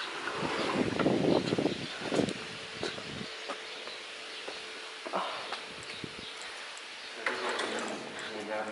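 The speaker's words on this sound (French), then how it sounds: "il y a toujours eu du vent" Gusts of wind buffet the microphone in low rumbling bursts, strongest at the start, with voices and outdoor noise in between.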